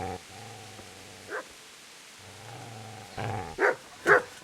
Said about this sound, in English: Get away, you mutt!